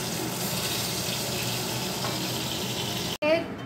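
Fish pieces sizzle steadily in hot oil in a pan, a dense continuous frying hiss close by that cuts off abruptly near the end, followed by a brief clatter.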